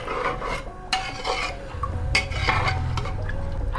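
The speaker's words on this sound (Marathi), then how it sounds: "परतून घ्या." Rice being stirred and sautéed with salt in a metal pot for khushka rice, a spoon scraping and clinking against the pot in close, steady strokes with soft rustling of the grains.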